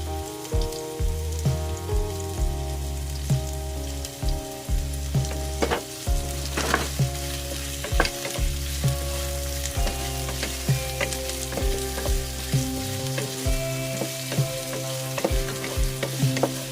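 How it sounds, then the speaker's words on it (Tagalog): Onions sizzle steadily in olive oil in a pan, a continuous close frying hiss with clinks and scrapes of stirring over a background music track. "Unang gawin natin, lutuin muna natin yung sibuyas."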